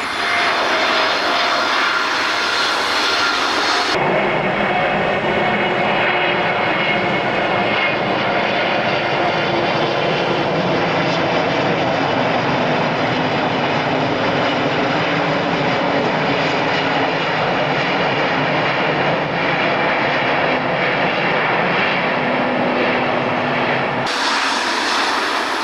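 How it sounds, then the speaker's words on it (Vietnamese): Boeing 747-8F cargo jet landing on runway 11R at Noi Bai airport, a loud, steady engine roar sustained throughout, swelling briefly at the start and end, with no voices. "Chiếc máy bay hạ cánh xuống đường băng 11 bên phải chứ không phải bên trái như thường lệ ở sân bay Nội Bài"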